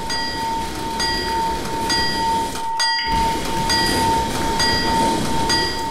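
Heavy train running on tracks, a continuous loud rumble with a steady high tonal whine and periodic clicks, briefly dipping in the middle before carrying on, with no talking.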